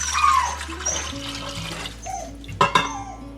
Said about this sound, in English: In my Instant Pot, I'm going to go ahead and add in 4 cups of beef broth.